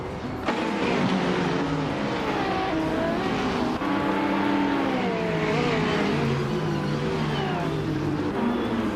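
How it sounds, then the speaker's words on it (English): Race cars roar around the Donington circuit in a racing video game, engines revving and shifting pitch continuously as several cars accelerate and pass, loud and sustained throughout. "the fast cars are making up ground on the straights"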